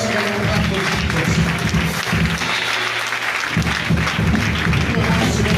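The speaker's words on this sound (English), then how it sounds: "Put your hands together and clap for Jesus." Crowd clapping hands together at a Christian worship event, steady dense applause with rhythmic beat over musical accompaniment, loud and continuous throughout.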